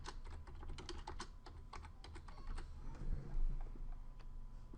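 Typing on a computer keyboard while editing text in Photoshop, a close run of quick irregular key clicks, dense at first and then thinning out, with no one speaking.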